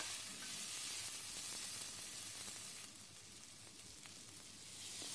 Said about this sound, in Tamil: உருளைக்கிழங்கையும் சேர்த்துட்டு நல்லா வதக்கி விட்டுக்கலாம்.